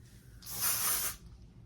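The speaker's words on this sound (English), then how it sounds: "I'm gonna put some dry shampoo in my hair" Dry shampoo sprays onto hair in a single hissing aerosol burst lasting under a second, close and fairly soft, with quiet room tone before and after.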